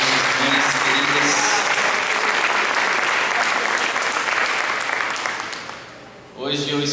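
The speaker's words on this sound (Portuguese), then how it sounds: "Um aplauso às nossas mães queridas." Congregation in a church applauding mothers on Mother's Day, loud dense clapping that holds steady and then fades out, with a voice beginning to speak as it ends.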